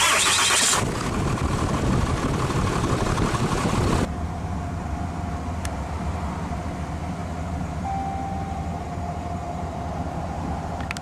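A 2022 Ram 2500 Laramie Mega Cab with the 6.7 Cummins diesel cranks with a loud, close starter burst, then settles into a steady low diesel idle with a faint whine.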